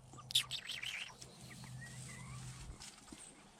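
A chicken vocalizing indoors, a few short high chirpy calls clustered near the start, then quieter intermittent peeps over a low background hum.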